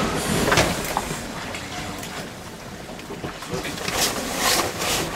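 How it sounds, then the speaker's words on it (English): Strong wind at sea aboard a 26ft sailboat crossing the Atlantic, a steady broadband roar of gusting air and rushing water that swells louder near the start and again toward the end. "It's fucking blowing hard out there."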